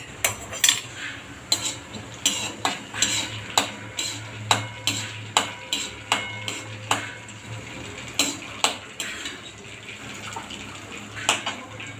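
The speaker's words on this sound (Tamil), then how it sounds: "இப்போ கொஞ்சம் பொரிஞ்சப்புறம் இந்த அரைச்சதை விட்டுடலாம்" Cumin seeds spluttering in hot oil in a pan for a mutter paneer gravy, then a ground paste added, giving a steady sizzle broken by a dozen sharp clinks and scrapes of a spoon against the vessel, close by with no talk.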